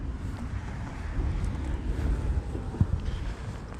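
Steady outdoor wind buffeting the microphone on a sunny, cold day in London, a constant low rumble with gusts rising and falling, plus a brief thump near the end.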